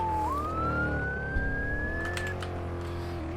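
An ambulance siren sounds in the Roblox game Maple County on a Chevy Express paramedic vehicle, one rising electronic wail over a steady engine drone and road noise, with no talk.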